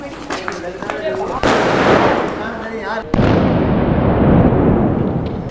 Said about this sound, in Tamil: இது வந்து ஆக்சுவலாக ஒரு பேப்பர் பாம்.